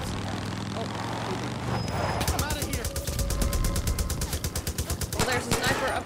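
Rapid automatic gunfire in the co-op shooter game Far Cry New Dawn, a long run of evenly spaced loud shots over a busy low rumble, with voices talking underneath.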